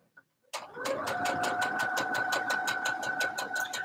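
A Baby Lock Soprano sewing machine starts after a couple of faint clicks and runs steadily and close, with a rapid even stitching rhythm over a constant motor hum.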